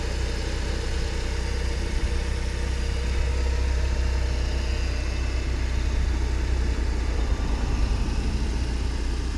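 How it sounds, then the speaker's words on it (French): A 1994 BMW 316i Compact with more than 400,000 km on it, fully stock, idles steadily, giving a constant low engine hum and a faint mechanical whir heard close up, with no talking. "Voilà le moteur d'une BM."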